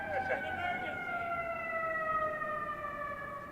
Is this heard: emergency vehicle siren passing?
yes